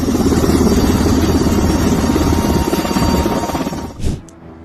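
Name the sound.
helicopter refueling in mid-air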